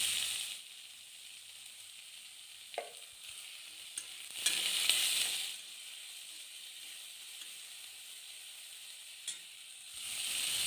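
Onions fry in a pan with salt, dried red chili and curry leaves, giving a quiet steady sizzle broken by a few scrapes of stirring, with one louder burst of hiss and clatter midway.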